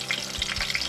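Pond catfish frying in a fryer, a steady close bubbling sizzle of hot oil with small pops and crackles throughout, no voices.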